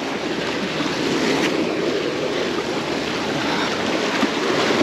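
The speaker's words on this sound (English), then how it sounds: "Those waves might wet us a bit, but it's okay." Ocean waves surging steadily at John's Pass during a pompano fishing outing, a loud continuous wash of surf with wind buffeting the microphone, no voices.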